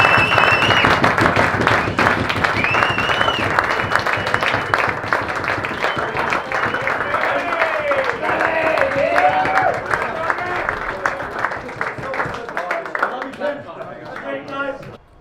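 Players give the club staff of a WAFL football side a big round of applause, dense clapping filling the room alongside cheering and overlapping voices, then thinning out toward the end.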